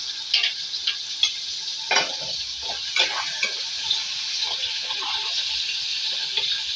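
Vegetables fry in a pan, giving a close, steady sizzle broken by scraping and clicking stir strokes at an irregular rhythm.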